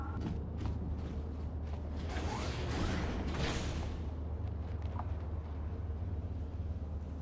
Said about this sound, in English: That sounded like a door opened automatically.